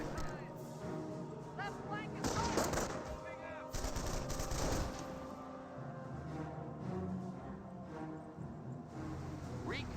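Gunfire from a rifle squad in the WWII strategy game Company of Heroes: repeated rifle and machine-gun bursts, with the densest volleys in the middle. Someone talks over the battle throughout.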